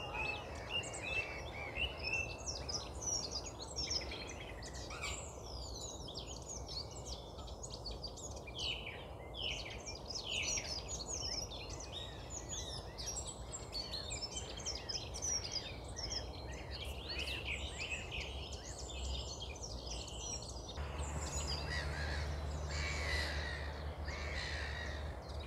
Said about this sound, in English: just such a joyous bird, isn't it?